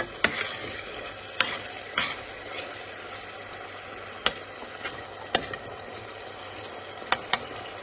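Chili and onions frying in a pan for kamchef, with a steady low sizzle broken by sharp pops and spatula scrapes scattered throughout, close and alone with no talk.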